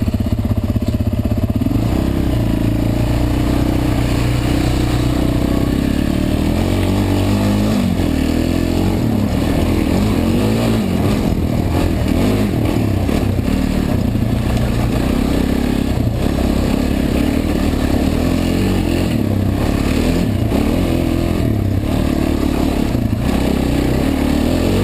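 Motorcycle engine running loud and close for the whole stretch, with steady low rumble and rising revs as the clutch is let out quickly, plus some mechanical clatter; no talking.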